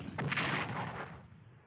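Tank counterattack combat in the WW2 strategy game Strategic Command: a single short, muffled burst of gunfire or artillery that fades out over about a second, with no voices.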